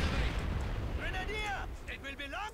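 Mortar rounds firing and bursting in the Company of Heroes 2 World War II strategy game, a low booming rumble at the start, with speech-like tonal voices over the battle ambience.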